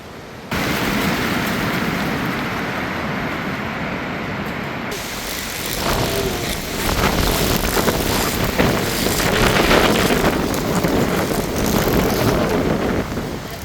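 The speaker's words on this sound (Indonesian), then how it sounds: "sangat berangin guys di luar" Strong wind roars steadily outdoors at a hillside campsite in the afternoon, a broad rushing noise that buffets the microphone and grows louder toward the end.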